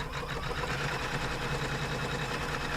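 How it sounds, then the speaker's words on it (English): A sewing machine stitches an inner outline with a steady, close motor whir and a fast, even needle patter that runs unbroken throughout, with no voices. "And then I'm going to stitch the inner outline"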